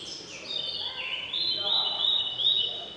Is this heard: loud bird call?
yes